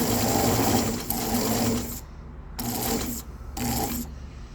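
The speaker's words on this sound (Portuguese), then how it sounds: "Aqui eu ajeito, eu vou ajeitando o tecido, tá? E costuro." Sewing machine stitching fabric for a crochet baby blanket, running in loud, steady close-up bursts that stop and restart several times, with brief quiet gaps between runs.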